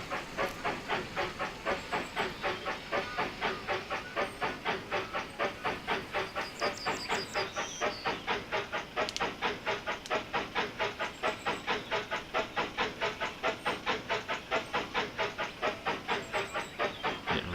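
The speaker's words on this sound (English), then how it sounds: "we can lock the camera to the train. And then we can watch the train go." Steam locomotive running in the video game Railroad Tycoon 3, a steady rhythmic chuffing with hissing steam and clickety-clack of wheels, continuous and fairly close throughout with no voices.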